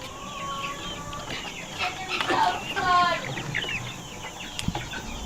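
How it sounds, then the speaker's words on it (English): Chickens pour out of a coop during morning chores, a flurry of clucks and squawks that swells briefly and then scatters, with a voice talking over them. "And out fled the chickens."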